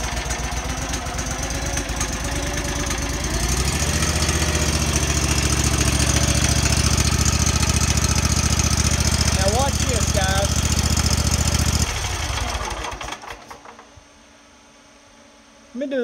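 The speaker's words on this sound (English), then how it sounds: "And this is a Generac engine." Generac engine on a Dixie Chopper lawn mower running loud and steady with a droning low hum for about twelve seconds, then cutting off and winding down to near silence, with a brief restart sound at the very end.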